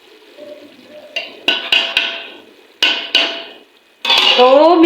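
Metal plate set onto a cooking pot of bottle gourd and chana dal, a series of sharp clanks and taps of metal on metal, close and loud, ending in a brief scraping clatter.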